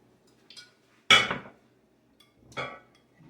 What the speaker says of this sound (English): dump the beans in.